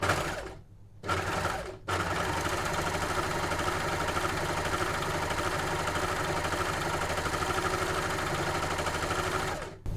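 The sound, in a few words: Janome overlocker sewing and cutting off excess fabric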